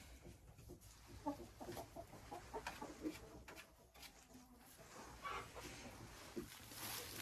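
Hens cluck on and off in a poultry enclosure at an egg-laying farm, soft scattered calls over a steady low farmyard background, fairly close but not loud.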